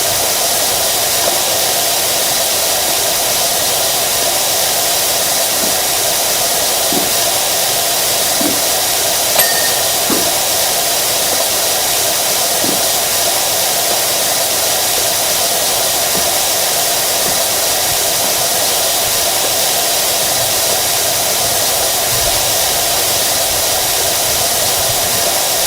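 A pressure washer spraying in the video game Power Wash Simulator, a continuous loud, even hiss that runs unbroken for the whole stretch, with only a few faint clicks underneath and no talking.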